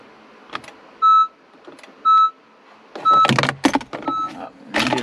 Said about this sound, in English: that's what I get. This little beep noise.